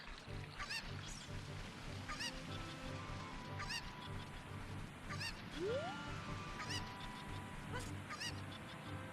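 A chicken in a Zelda video game, a beginner preset randomizer seed, lets out sharp, repeated squawking clucks every second or two over steady game music and ambience, with no talking.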